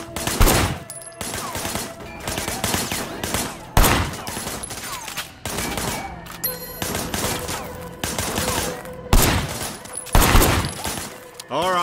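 Bursts of gunfire in the video game Sleeping Dogs, with repeated loud volleys of rapid shots and some shattering impacts over about twelve seconds, close and dense.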